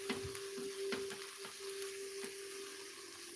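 Sauerkraut with mushrooms sizzles and fries in a pan while it is stirred, giving a quiet, steady hiss with a few soft scraping clicks from the stirring.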